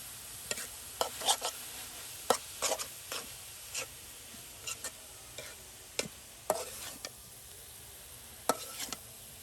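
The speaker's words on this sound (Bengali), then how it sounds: "অল্প সময়ের মধ্যে একদম জর্জরে পাঁচমিশালি শাক ভাজা ভাজা করে নেওয়া হলো।" Mixed leafy greens are stir-fried in a pan in a village kitchen, with a soft continuous sizzle broken by sharp, irregular scrapes and taps of the spatula against the pan, close and fairly quiet with no talking.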